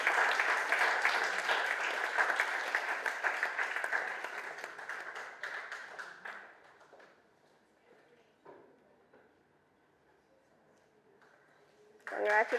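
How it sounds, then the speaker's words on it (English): Audience clapping at a landscape architecture scholarship awards ceremony, full and sustained at first, then thinning out to a few scattered claps before dying away into near-silence, with a sudden rise of sound at the very end. "A big round of applause."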